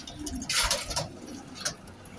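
Pigeons coo near a rooftop loft where young birds are being flown, with a soft cooing call and a few brief wing or patter sounds, moderately close and quiet, with no voices.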